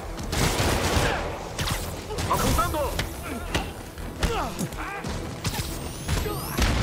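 Rapid bursts of gunfire in Spider-Man Remastered crackle amid a busy, dense mix of effects and voices, shots repeating irregularly throughout.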